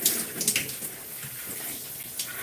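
Running water rinses conditioner out of one section of gray natural hair, a soft continuous splashing wash with faint bursts of spray, close by and with no talking.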